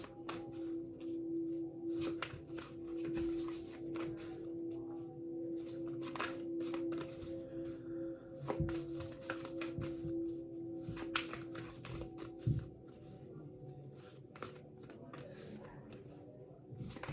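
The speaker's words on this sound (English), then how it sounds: "This card was at the bottom and I shuffled and grabbed it." A deck of tarot cards is shuffled by hand in a steady run of soft riffling and slapping clicks, close up, continuing for many seconds with a low background hum.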